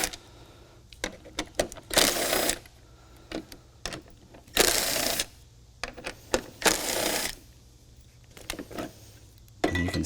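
Fog light bolts being removed from a 2022 Jeep Wrangler JL front bumper, heard as repeated bursts of a power tool whirring for a second or so each, separated by short clicks and quiet gaps.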